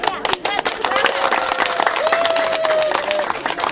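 Applause at a Moi traditional wedding ceremony, a loud burst of crowd clapping with scattered sharp hand claps and some voices mixed underneath, sustained across the moment.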